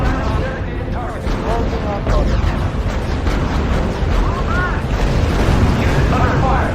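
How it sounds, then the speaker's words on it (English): Artillery fire and explosions in the R.U.S.E strategy video game roll on as a dense, continuous wall of booms and rumbling blasts, loud and sustained throughout. "Open fire on designated targets."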